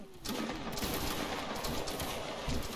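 A loud outdoor volley of black-powder muskets fired by a line of troops at a Napoleonic reenactment of the Battle of Mont-Saint-Jean, erupting as a dense crackling burst that rolls on for a couple of seconds.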